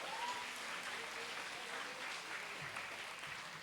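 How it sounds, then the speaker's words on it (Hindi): Audience at a cultural program clapping steadily throughout, a dense, sustained patter of many hands at moderate level with no voices over it. "संदीप भाई जी के लिए एक बार जोरदार तालियां हो जाए।"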